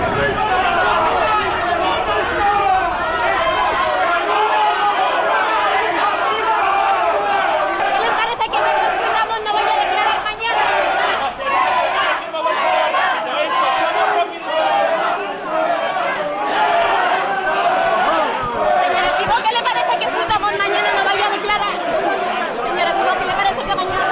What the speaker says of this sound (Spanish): Ellos han sido recibidos por decenas de personas entre gritos y abucheos